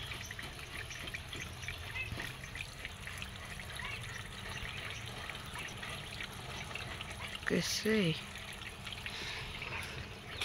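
Water runs and trickles steadily while shoes are washed, a faint constant flow beneath people talking, with a brief louder voice near the end.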